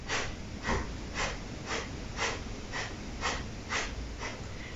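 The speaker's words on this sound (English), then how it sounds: "and breathing out through your nose" A child does bunny breath, exhaling sharply through the nose in a quick, even series of about ten sniffing puffs, close and fairly soft.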